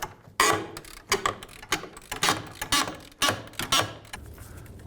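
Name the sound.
loosening a bolt with a 17mm socket and wrench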